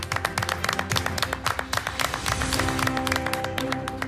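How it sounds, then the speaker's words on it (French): Clapping on the set of a televised pastry competition, a small group applauding with sharp, distinct claps, moderately close, alongside background music and occasional tapping, with little talk. "Bravo, on applaudit, bravo Alexandre."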